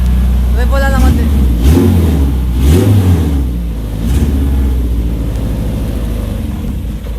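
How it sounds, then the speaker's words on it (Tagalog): A turbocharged Honda car engine revs in a few short bursts at close range, with loud rising and falling engine sweeps, and people talk over it. "Pwede ba rep ng konti lang? Konti lang."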